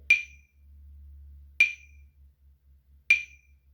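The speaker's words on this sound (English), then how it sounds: "Sometimes all you can hear is the tick," Three sharp, bright metallic ticks spaced evenly about a second and a half apart, alone over a faint low hum.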